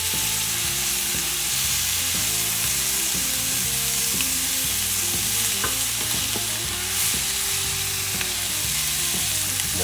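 Scallops sear in a hot pan with a loud, continuous sizzle and spitting, close by and unbroken, with no voices over it.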